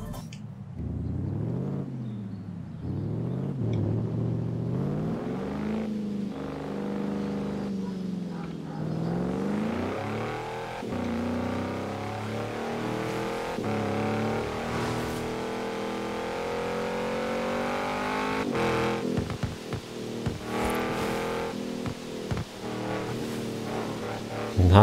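An Audi RS7 engine in the video game Forza Horizon 4 rumbles at low revs, deep and steady, swelling and easing as the throttle shifts, with no talking.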